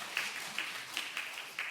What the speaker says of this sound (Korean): 격려의 박수 한번 살짝 쳐주세요